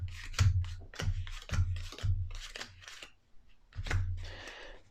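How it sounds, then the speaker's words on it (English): Playing cards are dealt three per player for the Fantasy Forest board game, making a rhythmic run of crisp snaps and soft thuds on the table, close and clear, with a brief pause before the last few. "So let's just deal 3 cards out for each player."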